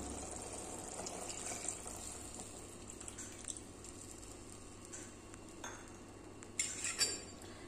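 Thick first-extract coconut milk poured into a simmering fish stew, a soft, quiet liquid pour with occasional light clinks of utensils and cookware.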